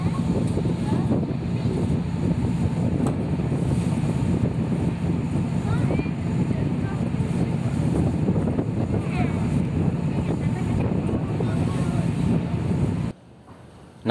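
A ferry crosses the sea from Ketapang to Gilimanuk, its steady low engine rumble and wind buffeting continuous and loud up close, with faint speech underneath, before the noise drops off sharply near the end.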